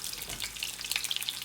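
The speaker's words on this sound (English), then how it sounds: "You typically fry the salami until it gets toasty on both sides." Salami slices frying in a pan until toasty on both sides, giving a soft, steady crackle and hiss with a few brighter pops, close and moderately quiet.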